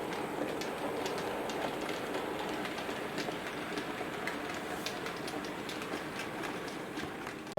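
A Hornby Class 08 R3485 model shunting locomotive with a short chassis runs steadily through a radius 2 curve point, a faint continuous whirring motor hum with light rhythmic clicking of wheels over the track.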